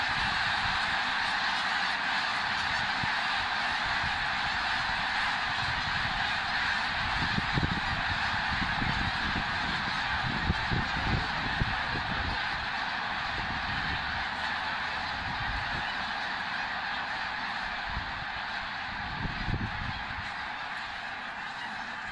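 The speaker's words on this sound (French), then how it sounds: "Faites juste essayer d'imaginer la quantité d'oies qui arrivent encore." A huge flock of snow geese honking nonstop in a dense, steady chorus, many birds calling at once across open ground in Québec, loud and continuous with no talk.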